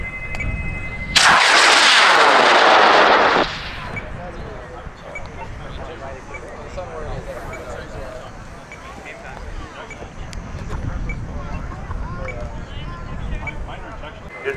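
A 32-pound high-power rocket on an L1300 motor launches at Airfest in Argonia, Kansas: a sudden loud roaring burn lasting about two seconds, then fading to distant rumble as people talk and react outdoors.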